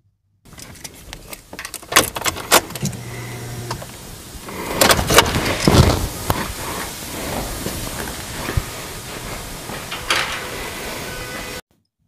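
A car's ignition is switched on with the key: scattered key rattles and sharp clicks, followed by a brief whirring hiss, all close and in a quiet space with no talking.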